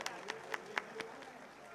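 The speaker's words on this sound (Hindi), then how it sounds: "अभी मैं जोरदार तालियों से हमारी MLA प्रत्याशी संतोष जी मेघवाल का आप सबकी तालियों से" A rally crowd at a BJP campaign event in Sujangarh applauds an MLA candidate, with sparse, faint hand claps spaced out at a distance, thinning away after a few beats.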